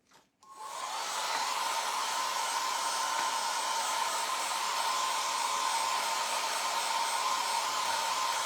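A hair dryer drying chalk paste on a craft project switches on after a brief click and blows in a loud, steady whir with a constant hum, close up and uninterrupted.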